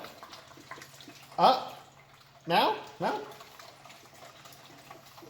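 Coolant gurgles and splashes in three short bursts as it is poured into the new radiator of a 1971 Chevy C10 pickup, close up over a faint background hum, with brief speech between the pours.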